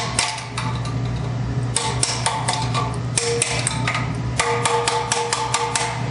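A hammer gives light, sharp metallic taps while a lock nut is tightened on EMT conduit in a shop. The taps come close and distinct in short clustered bursts over a low steady hum.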